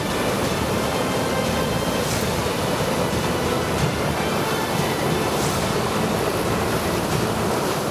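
River water released from the Tungabhadra dam during heavy rain roars in a dense, unbroken wash of noise, loud and close, with no voices.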